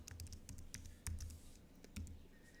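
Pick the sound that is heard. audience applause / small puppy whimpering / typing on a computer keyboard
typing on a computer keyboard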